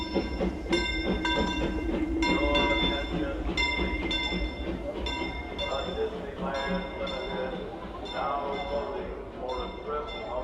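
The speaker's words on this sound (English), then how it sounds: "Why does the train sound funny?" A Disneyland Resort train rolls past on a rainy night, running unevenly rather than smoothly, with a steady rumbling clatter, rhythmic wheel clicks and sharp metallic squeals over about ten seconds, with people talking nearby.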